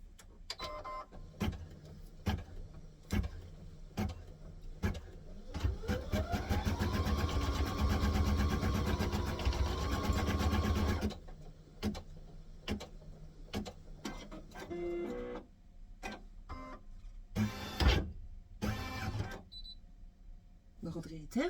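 A home embroidery machine stitches in a fast steady mechanical patter that runs loudly for several seconds, then stops, followed by scattered clicks and handling noises while someone talks.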